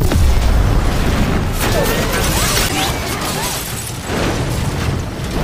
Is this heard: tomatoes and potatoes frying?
no